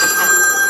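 A telephone rings in a brief, steady electronic tone that is loud and close, with no pause within the short burst.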